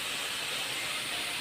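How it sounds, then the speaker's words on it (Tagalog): Squid frying in plenty of oil, a dense, continuous hissing sizzle that stays loud and even throughout, with no talk. "Guys, piniprito ko na yung pusit."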